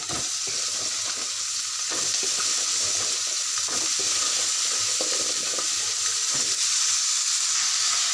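Young, tender sweet pumpkin with the skin left on, cooked with shrimp, fries steadily in a pan. A continuous close sizzle runs throughout, broken by the scrape and clatter of stirring.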